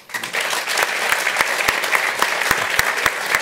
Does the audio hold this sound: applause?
yes